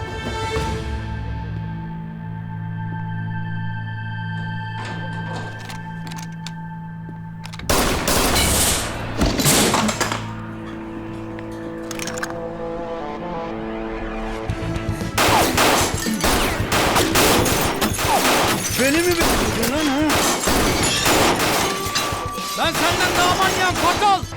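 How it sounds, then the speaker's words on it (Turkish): Rapid bursts of gunfire crack repeatedly, loud and sharp, with sustained volleys and crashing impacts over a droning background. "Silah sesleri geliyor."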